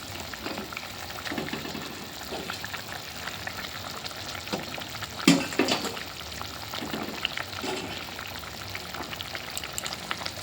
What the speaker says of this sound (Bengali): সব মাছটা দিয়ে একটু নেড়ে চেড়ে রান্নাটা ভালো করে হতে দেব